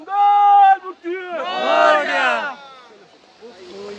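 A festival crowd at the Ganpati visarjan procession in Pune chants together in unison. The loud, sustained group voices rise and overlap before trailing off into scattered calls.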